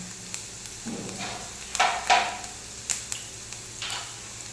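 Cauliflower frying in a pan with chilli and garlic, a soft steady sizzle broken by a few sharper crackles and spatula scrapes, close by with no talking.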